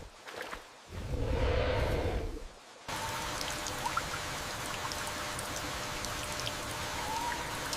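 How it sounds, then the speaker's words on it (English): Steady rain patters and drums on foliage, a dense crackling wash of drops with a brief louder gush early on, no voices. "The drumming of rain on the broad leaves creates a tapestry of calming natural rhythms"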